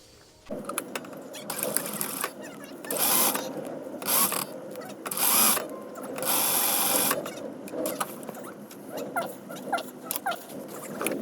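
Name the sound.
sewing machine sewing darts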